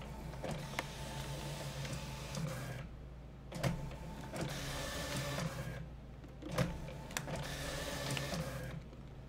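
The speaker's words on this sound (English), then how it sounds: "let's listen to the printer for a second as it prints" An office printer runs through a batch of credit repair letters, a steady mechanical whir broken by regular feed clunks and brief pauses between pages, close and moderately quiet with no talk.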